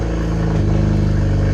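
From inside a moving car comes a loud, steady engine and road drone, with a smooth low hum that shifts slightly partway through and no voices.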